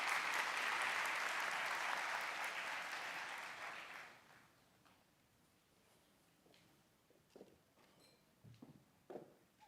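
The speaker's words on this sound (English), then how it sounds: "Let's give them a round of applause as they present to the podium, guys" A graduation ceremony audience claps steadily for graduates walking to the podium. The applause is full for about four seconds, then stops abruptly, leaving a quiet hall with scattered faint knocks and shuffles.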